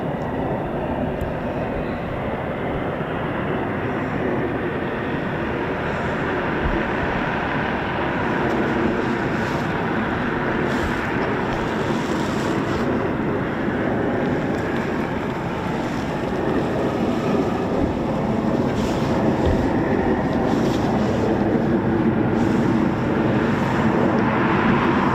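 RAF Eurofighter Typhoon FGR4 jet with twin EJ200 engines departing from a snowy airfield, a loud, steady broadband roar that holds for the whole stretch with no talk.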